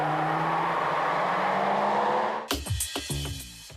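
A BMW M760 7 Series at speed on a race track, its loud engine and road roar holding steady for about two and a half seconds before cutting abruptly to quieter, choppier sounds.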